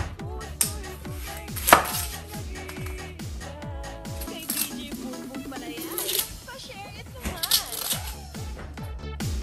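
A large onion chopped on a cutting board as beef bulalo is prepared, a quick steady run of close knife chops against the board, with someone talking over them.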